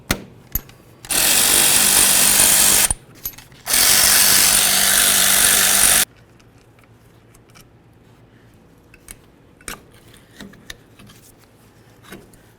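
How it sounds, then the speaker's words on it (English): Brake caliper slider bolts on a 1994-2004 Chevy S-10 rear brake coming out under a power tool, two loud close bursts of whirring rattle, followed by faint clinks and handling of parts. "go ahead and remove our caliper to caliper slider bolts"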